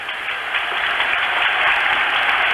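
Ice hockey crowd applauding its team at a world championship game between Czechoslovakia and the USA, a steady, loud wash of arena applause and cheering that swells slightly toward the end.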